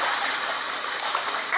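Water splashes and sprays steadily as a molting pet goose bathes, a close, bright continuous splatter with no pauses.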